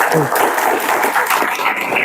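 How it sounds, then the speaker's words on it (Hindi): A lecture audience briefly claps to welcome a senior advocate from the Kanpur civil courts, a short burst of close clapping with murmuring voices mixed in. "उनके लिए एक बार जोरदार तालियां"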